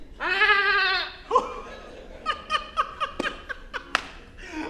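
Goat bleating by a roadside, one loud drawn-out wavering bleat up close, followed by a string of short choppy bleats and snickering cries in quick succession.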